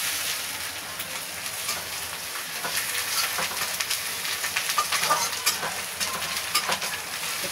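Ginger and garlic frying in a pan give off a continuous bright sizzle, with rapid crackles and stirring scrapes rising and falling up close.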